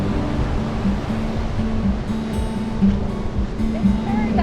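Ocean waves wash onto Bellows Field Beach on Oahu, Hawaii, under an overcast sky, a continuous broad rushing surf close by, with occasional brief voices in the background.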